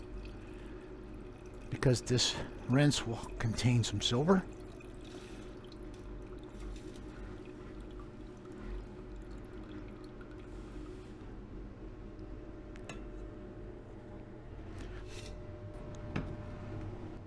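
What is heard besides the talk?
pouring rinse water into a beaker with copper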